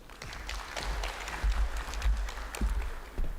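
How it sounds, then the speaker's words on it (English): Audience applause welcoming a city councillor at a climate change workshop, a fairly faint spread of scattered clapping with a few louder bumps over low room rumble. "Let's give him a round of applause."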